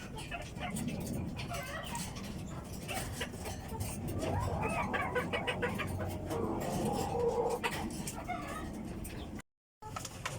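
Chickens cluck and murmur steadily while being fed dog food, a continuous soft chorus of several birds close by with occasional sharper calls.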